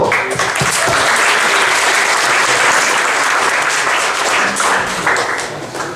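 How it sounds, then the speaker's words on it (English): A large audience at a startup pitch event final in Lithuania claps loudly and densely for six seconds, a continuous roar of hands with no talking over it. "Great applause."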